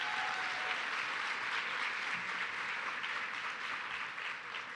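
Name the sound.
round of applause at a conference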